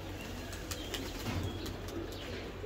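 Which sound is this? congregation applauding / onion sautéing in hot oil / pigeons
pigeons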